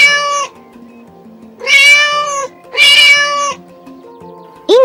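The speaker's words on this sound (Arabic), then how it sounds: "إنه صوت القطة" A cat meows twice in long, drawn-out cries, loud and close, followed by the start of a third short meow.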